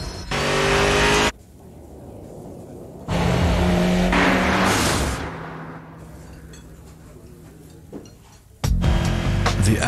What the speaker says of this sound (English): The Acura RSX Type S, now with 210 horsepower. You'll know it when you hear it.